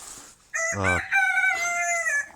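A chicken being vaccinated against Newcastle disease gives a few close, loud, strained calls, a short harsh squawk followed by longer tonal clucking cries, with no talk over it.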